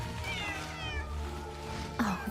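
A cat in the game Zenless Zone Zero meows several times in a row, close and clear, over soft background music, with a short louder cry near the end.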